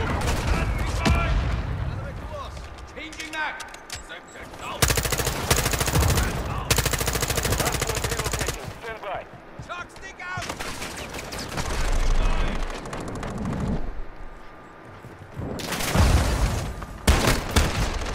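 Shotgun fire in a Modern Warfare 2 beta match, loud repeated blasts among dense in-game gunfire and explosions, with players talking over the action.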